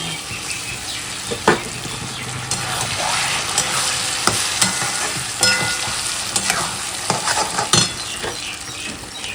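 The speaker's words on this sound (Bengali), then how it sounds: "দেখো পেঁয়াজটা সুন্দর লাল লাল করে ভাজা হয়ে গেছে" Onions sizzle and crackle in a hot pan, with repeated scraping and clinking of a spoon stirring them.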